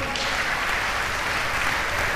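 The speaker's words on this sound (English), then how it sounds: "Come on, let's encourage him with a clap." Audience clapping in a church during a youth testimony service, a dense, steady wash of applause from many hands throughout the brief moment, with no speech over it.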